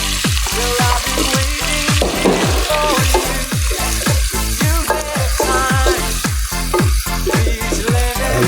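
Carrots are tossed into a hot pan of chopsuey stir-fry, making a loud continuous sizzle with rhythmic scraping and stirring strokes throughout, close and busy, with no talking.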